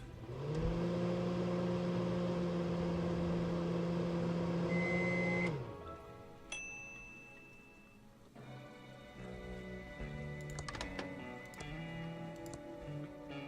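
A microwave oven in the adventure game Thimbleweed Park hums loudly and steadily for about five seconds, then stops with a ding and a click, followed by quieter ticking and mechanical game sounds.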